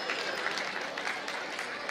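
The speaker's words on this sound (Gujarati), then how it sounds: "જોરદાર તાળીઓથી એમને વધાવીએ" A crowd at a religious Bhagavat Katha gathering held at a cow shelter in Rajkot claps without a break: dense, even, moderately loud applause that fills the whole moment.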